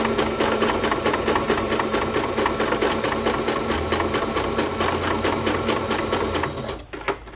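A sewing machine stitches steadily and close by with a fast, even mechanical rhythm, used for making wallpaper collages with a bobbin running low, then slows and stops near the end.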